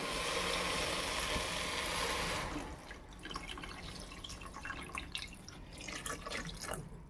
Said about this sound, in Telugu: సో ఇప్పుడు నేనైతే 1 చెంబు నీళ్ళు పోసుకుంటున్నాను.